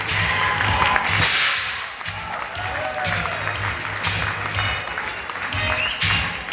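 A large audience applauds at the Miss Universe Sri Lanka 2011 pageant crowning, sustained loud clapping and cheering that fills the hall with steady density.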